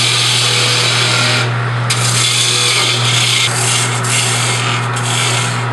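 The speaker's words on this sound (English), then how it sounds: "I'm going to use my small detail gouge first and round it over" Small detail gouge rounding over and shaping a workpiece spinning on a wood lathe, a steady, loud continuous rasping scrape with a constant motor hum beneath, brief scraping surges along the way.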